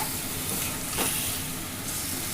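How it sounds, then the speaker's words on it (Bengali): Chicken sautés and lightly fries in a pan, giving a steady loud sizzle and hiss with occasional stirring scrapes, close up and uninterrupted, with no voices. "এবার দেখো চিকেনটাকে খুব ভালো করে কষিয়ে নিচ্ছি।"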